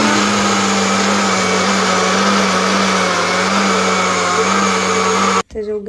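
A kitchen mixer grinder grinds masala for smoky tandoori chicken with a loud, steady motor whir that runs unbroken and then cuts off abruptly near the end.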